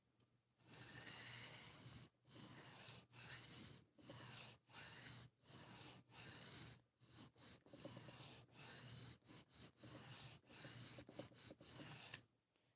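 A blade scrapes across a coarse 140 grit sharpening stone in a series of short rasping strokes, separated by brief pauses, close and clear.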